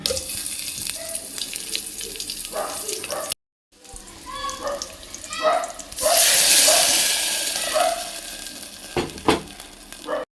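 Hot oil crackles and sizzles as onion and garlic hit the pan for tempering, a bright hissing burst that swells midway and lingers, with a short silent gap early on.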